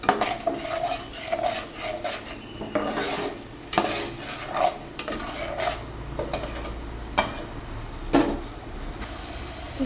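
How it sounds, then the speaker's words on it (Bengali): Cumin, green chilli and tomato spice paste being fried and stirred in a pan, with irregular scraping and clinks of a spoon against metal over a low sizzle, close and fairly loud, no one talking. "এখানে আমি জিরে, কাঁচা লঙ্কা আর একটা টমেটো পেস্ট করে রেখেছি। মশলাটাকে একটু কষিয়ে নেব।"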